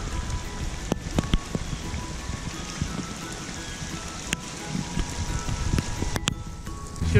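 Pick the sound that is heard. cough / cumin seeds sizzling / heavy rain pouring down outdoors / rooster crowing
heavy rain pouring down outdoors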